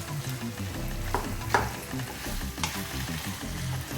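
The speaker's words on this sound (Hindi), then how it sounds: "तो हमारा जो मटन है वो पूरा भुन जाएगा।" Mutton cooks in spices and oil in a pan over low heat, with a constant close sizzle and a few sharp clacks from stirring.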